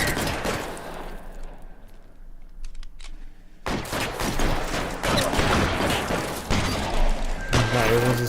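Gunfire in the video game L.A. Noire: loud bursts of rapid shots and thuds fill most of the stretch after a brief quieter lull, with voices talking over the action.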